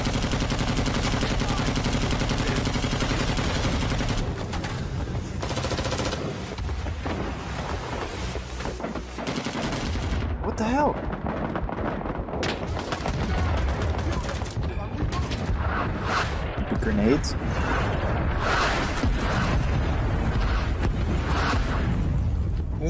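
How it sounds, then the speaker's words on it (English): Mortar and artillery fire in the Vietnam War shooter game Rising Storm 2: Vietnam, a dense, continuous stream of booming blasts and gunfire that stays loud throughout, with a voice speaking over parts of it. "Is this like mortar fire? Oh, it is. There's artillery over there, apparently."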